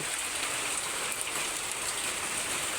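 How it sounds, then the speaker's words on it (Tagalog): Steady, heavy rain pours down without a break, a dense hiss of drops drumming on surfaces close by, with no voices. "lumalakas na po yung ulan"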